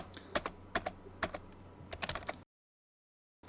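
Rapid keyboard typing of AutoCAD commands, with a burst of uneven keystrokes and clicks up close, then a short silence before one final keypress.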